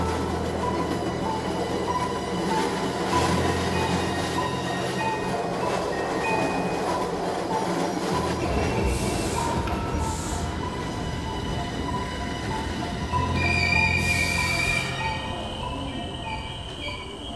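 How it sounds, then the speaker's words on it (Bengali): A train sound effect for an animated horror story of a ride on an empty train plays as a steady, close rumble of wheels and carriages, with metallic squeals and tonal whines rising partway through. "খালি ট্রেনে যাত্রা করছিল"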